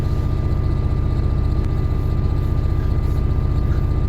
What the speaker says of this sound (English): Oh, the engine's just cut out to change gear